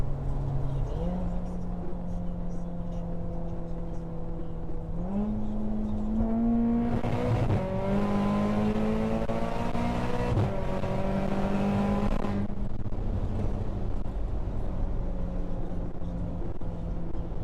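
A tuned Audi S3 accelerating hard on a full pull, its engine note climbing steadily through the gears with clear shift breaks and a rising roar heard from inside the car, then easing off near the end.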